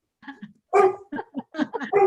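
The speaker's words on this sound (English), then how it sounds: "It started my dog off now." A dog barks and yips close by in several short, irregular bursts, sharp and loud, with brief gaps between them and no other sounds around.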